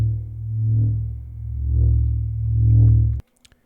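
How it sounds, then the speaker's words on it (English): Synthesized pulsing sub-heavy station ambience built in Vital, a deep low drone swelling and fading in slow waves before cutting off abruptly, followed by a couple of faint clicks. "I created kind of a pulsing sound at Vital that sounds like this."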